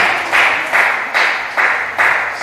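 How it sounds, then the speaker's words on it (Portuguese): A church congregation clapping along in unison, six even, loud claps in a steady rhythm with a bright, roomy ring. "Pode acertar as palmas bem alegre"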